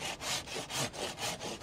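A hand saw cuts through a Mai Tu Quy apricot tree stock, with about seven steady back-and-forth strokes. Each stroke makes a rasping sound, close and evenly paced, with no talk.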